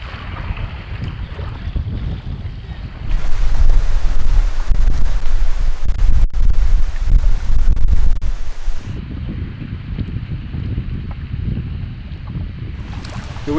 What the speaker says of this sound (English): The wind is way too strong to cross that lake.